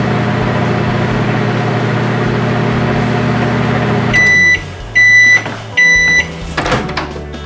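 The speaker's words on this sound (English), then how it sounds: "it tastes better if you just cook them in the microwave this way" A microwave oven hums steadily while cooking sliced onions, then stops and gives three loud, evenly spaced beeps followed by faint handling clatter.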